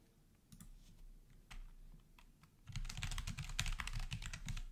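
Command typed at a terminal on a computer keyboard, a few scattered keystrokes at first, then a fast, dense burst of clicking taps, close and clear, no voices.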